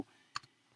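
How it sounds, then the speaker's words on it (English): A few keystrokes on a computer keyboard during a web search, quiet and close, with two quick clicks followed by another brief tap in an otherwise hushed room. "So I'm typing what is an M&D plan."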